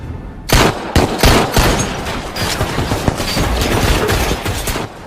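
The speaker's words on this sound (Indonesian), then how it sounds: "mereka saling baku tembak sampai semua amunisi habis" A gun battle between two squads in the action film Wolf Warrior, with loud, dense bursts of rapid gunfire and sharp cracks that run almost continuously and close by.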